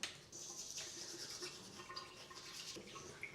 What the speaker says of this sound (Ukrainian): So let's brush my teeth.